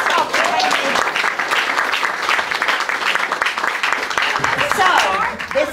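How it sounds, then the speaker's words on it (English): Audience at a Rotary Club gathering giving a loud round of applause, dense clapping close by with scattered voices and cheers rising through it across the whole stretch. "can we all give them a round of applause"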